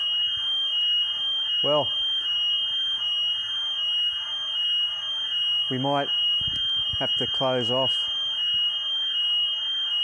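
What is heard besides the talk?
alarm going off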